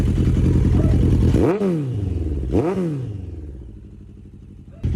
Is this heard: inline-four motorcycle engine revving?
yes